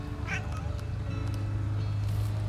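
A cat meows out in a garden, several clear mews close by over a steady low background hum.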